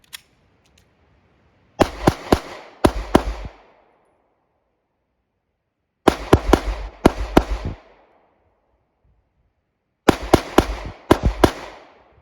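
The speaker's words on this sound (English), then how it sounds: "unholstering the gun, firing, and then reholstering it" Handgun shots fired during a Mozambique drill at a range, three sharp bursts of several close, loud cracks each, separated by pauses, with no talking.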